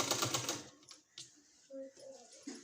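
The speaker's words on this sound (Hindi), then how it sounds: "पूरे में इसी तरह से सिलाई लगा लेनी है इस तरह से।" A sewing machine stitches fabric for a sleeve design in a short, steady mechanical run that stops early, after which someone talks over quieter room noise.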